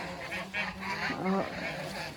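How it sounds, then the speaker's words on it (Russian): Domestic geese on a rainy farmstead give several loud nasal honks close by, ending in a sharper, higher call near the middle. A faint voice can be heard underneath. "мои гуси, конечно, мне не дадут говорить"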